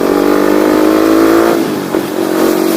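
Loud close revving of a Rusi Flash motorcycle fitted with an open, drilled-out muffler, a sustained raspy roar that dips briefly near the end and then picks up again.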